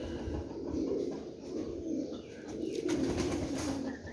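A male Teddy pigeon coos in soft, repeated rolling phrases, close by and moderately quiet.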